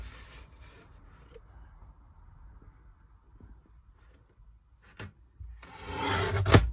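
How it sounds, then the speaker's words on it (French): Small paper trimmer slicing through card stock: a quiet, low sliding rub through most of the stretch, a short sharp snap near the end, then a louder rasping cut that builds and closes with a crisp peak. "Ma petite découpeuse et je découpe."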